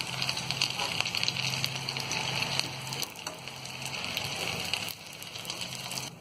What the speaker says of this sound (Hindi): इस तरह से हम सारे बॉल्स को फ्राई कर लेंगे